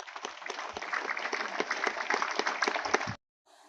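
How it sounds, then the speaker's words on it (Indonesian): Lively applause from an audience at a launch ceremony in Belu, Indonesia: dense, steady clapping for about three seconds that cuts off abruptly. "Sekali lagi kita berikan tepuk tangan yang meriah."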